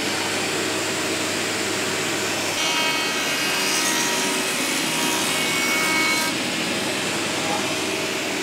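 Wooden drawer pieces for a wardrobe get their edges cleaned up by hand, a continuous close rubbing and rasping scrape with a steady hum beneath and someone talking over it.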